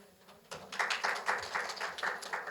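Clapping from the audience at a talk concert on autonomous mobility, faint and sparse at first, then swelling into a moderate, uneven patter of hands that continues to the end.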